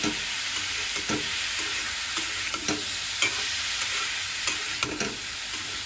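Bitter gourd fries in an uncovered pan with a steady close sizzle, broken by regular scraping stirs of a spatula at roughly one-second intervals.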